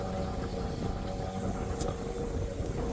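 A sailboat's engine chugs steadily underway, a constant low motor drone mixed with wind rushing across the microphone, close and fairly loud, with no speech.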